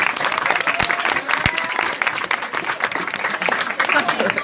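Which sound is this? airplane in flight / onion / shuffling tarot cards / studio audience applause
studio audience applause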